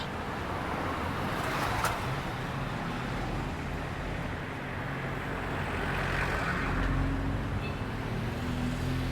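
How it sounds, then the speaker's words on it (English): Continuous roadway traffic by Tha Phae Gate, Chiang Mai: a low rumble of cars, trucks and motorbikes rolling past, steady throughout with a few brighter swells from nearer vehicles. "Quite a lot of traffic."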